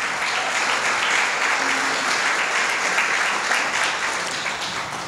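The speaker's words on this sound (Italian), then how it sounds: "Applauso." Sustained applause from an audience at the Basilicata International Film Festival award ceremony in Ruvo del Monte, a steady, loud wash of many hands clapping for the full length without a break.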